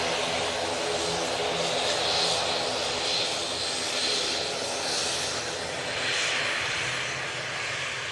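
An aircraft engine roars steadily at Manchester Airport, a broad continuous rumble that rises and falls gently as the plane passes at a moderate distance.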